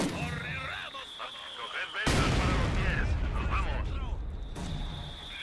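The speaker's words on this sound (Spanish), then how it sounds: "¡Paren esa puta ametralladora!" Machine gun fire and explosions in the World War II strategy game Company of Heroes 2, bursts of rapid gunfire over a dense, rumbling battle din that swells sharply partway through, with no clear talk.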